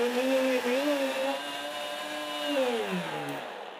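Blender puréeing cooked Jerusalem artichoke soup vegetables, a loud close motor whine that holds steady then dips in pitch as the mixture thickens, running for several seconds before winding down.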